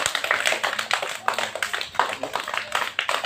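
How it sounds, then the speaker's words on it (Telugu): A crowd applauds a first prize winner at a school Independence Day celebration, with a steady burst of many hands clapping, fairly close and loud, with a few faint voices underneath. "First prize. అందరూ చప్పట్లు కొట్టాలి గట్టిగా."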